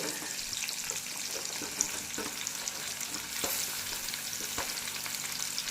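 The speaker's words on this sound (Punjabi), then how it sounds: "ਮਿਰਚਾਂ ਸਾਡੀ ਹਲਕੀ ਜਿਹੀ ਫਰਾਈ ਹੋ ਗਈਆਂ ਹੁਣ ਇਹਦੇ ਵਿੱਚ ਪਾ ਦਿੰਦੇ ਅਸੀਂ ਪਿਆਜ਼" Chillies and onion frying in a pan for chutney make a quiet, steady sizzle with soft crackles and a few stirring knocks, close by and without talking.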